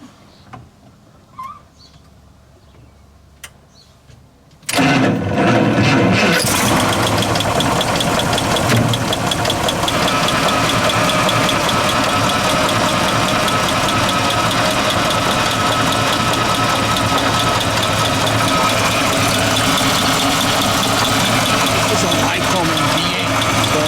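After a few quiet seconds, a 1936 Cord 810 engine cranks with a 6-volt starter and catches, then settles into a loud, steady idle that runs on close by.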